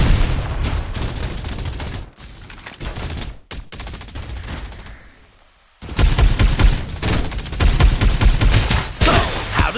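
Rapid, loud automatic gunfire from Farlight 84, with dense bursts of shots in the opening seconds, a brief near-silent pause, then another sustained, punchy volley of firing that continues to the end.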